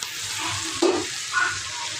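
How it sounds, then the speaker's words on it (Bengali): Meat frying with spices while being stirred, an unbroken close sizzle with a couple of scraping strokes of the spoon, no talking. "মাংস কষা দিচ্ছি।"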